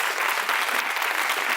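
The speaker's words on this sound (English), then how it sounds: "Round of applause for Leader 5 and Leader 6." A loud, close, dense burst of applause from a studio audience during a leadership competition show, steady clapping throughout with no talking.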